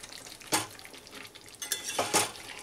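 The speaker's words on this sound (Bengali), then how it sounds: "নাড়াচাড়া করে দেব।" Chicken being stirred in a pan over a medium gas flame, with two sharp utensil scrapes against the pan among softer stirring sounds over a low background sizzle, close and alone.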